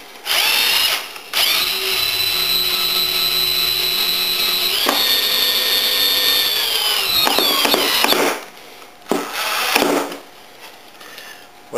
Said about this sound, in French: je vais serrer les pièces avec les vis